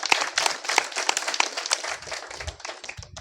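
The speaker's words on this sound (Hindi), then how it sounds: "एक बार उनके सम्मान में भी जोरदार तालियां" Audience applause honoring a guest at a village gathering in India: a dense, steady patter of many hands clapping, loud and continuous for the whole span, thinning slightly toward the end.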